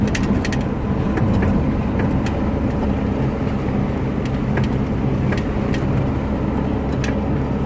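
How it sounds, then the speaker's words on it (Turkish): A car engine runs steadily and loudly on a neighbourhood street, a continuous low rumble with occasional sharp clicks and ticks above it, close to the listener and with no talk over it. "Motorun sesini duyun diye."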